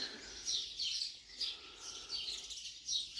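Small birds chirp in quick, repeated high bursts along a coastal walking trail in Portugal, faint and somewhat distant, with a soft outdoor hiss underneath and no voices.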